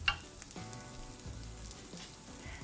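Slow-braised beef sizzling and frying in spiced oil in a pan, a steady close crackle with a brief louder hiss at the start, soft clinks as it is moved around.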